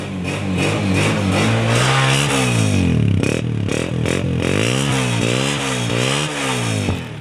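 A Honda 125 motorcycle, a 2022 model, runs close and loud after being kick-started, its engine revving up and down repeatedly in rising and falling surges without a break.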